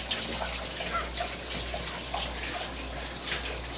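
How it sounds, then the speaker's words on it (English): Great Dane drinking from a kitchen sink with running tap water, a continuous close splashing and lapping wash over a steady low hum, no talking. "Mom told me it wasn't polite to drink straight from the sink."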